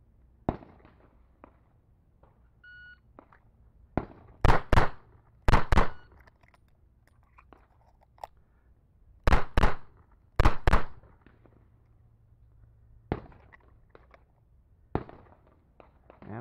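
Pistol shots fired freestyle with two hands, ringing out as sharp, loud cracks in close pairs and small groups with quiet pauses between them, alongside a few fainter single shots.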